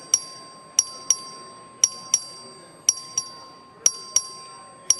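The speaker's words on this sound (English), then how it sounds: "The clerk will ring the bell." A legislative chamber's voting bell rings in sharp, repeated electronic strikes, about ten bright clangs in a steady rhythm over faint room murmur.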